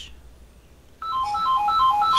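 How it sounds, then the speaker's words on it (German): A telephone ringtone bursts in after a second of near silence, a bright repeating electronic melody that keeps playing, clear and moderately loud. "Oh, und ich höre das Telefon."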